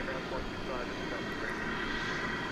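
Boeing 777-200 jet airliner at DFW Airport, a steady distant roar of jet engines holding level throughout with a faint tonal whine layered on top, heard from the ground at night.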